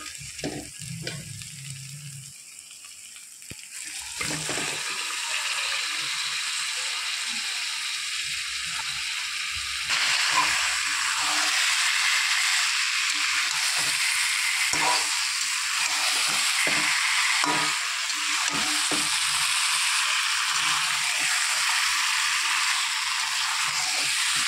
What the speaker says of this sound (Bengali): মশলা কষানো হয়ে গেছে, এবার দিয়ে দেবো ভেজে রাখা মাংস।